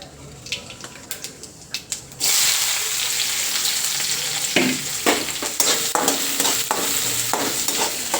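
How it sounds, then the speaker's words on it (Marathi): Curry leaves and cumin hit hot oil after some quiet clattering, bursting into a loud, continuous sizzle and crackle with intermittent scraping stirs close by. "आता मी तेलामध्ये कढीपत्ता टाकून घेतलेला आहे"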